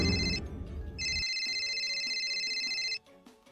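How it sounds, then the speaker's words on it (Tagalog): A cellphone ringtone plays alone in a quiet room, an electronic melody with bright sustained tones that repeats briefly and then cuts off. "Nasa yung cellphone ko?"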